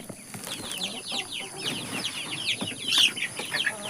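Chickens cluck and chatter steadily in a garden farm plot, many birds close by with busy overlapping calls, a burst of louder clucking and possible wing flaps near the end.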